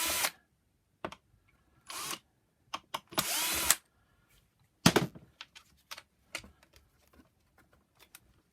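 Screws being undone on a Vax Platinum Power Max carpet washer during disassembly: sharp, brief clicks and short bursts of a driver or tool, some clustered, spread irregularly with quiet gaps, close up and with no talk.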